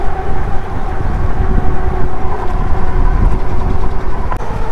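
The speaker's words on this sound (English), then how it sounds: "The train does run here." A train passes nearby with a loud, steady low rumble and a rolling, rattling wagon drone, filling the whole stretch without a break.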